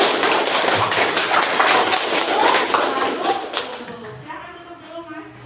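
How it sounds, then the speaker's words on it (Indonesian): A classroom group claps together for a student group after a presentation, a dense burst of applause that fades out after a few seconds. "kita beri aplaus buat kelompok Mas Jody"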